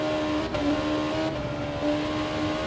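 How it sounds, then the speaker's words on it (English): A GT1 race car engine revs hard in a racing video game on the Nordschleife, holding a loud, steady, high droning tone with slight pitch swells and no talking. "He's revving the crack out of that engine"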